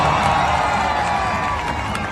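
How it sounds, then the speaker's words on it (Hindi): Large crowd cheering and clapping loudly at a guest's arrival, a dense, steady roar of applause and shouts filling the whole stretch. "जोरदार तालियों से इनका स्वागत करें।"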